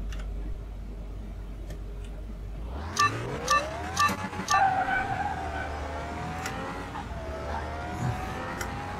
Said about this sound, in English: I am going through the gears a little fast